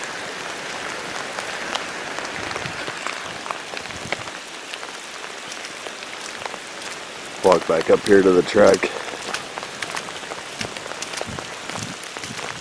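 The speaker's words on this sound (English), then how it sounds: "Nice and raining." Steady rain patters through the woods on a miserable day, a constant close hiss of drops, briefly louder for a moment midway, while someone talks over it.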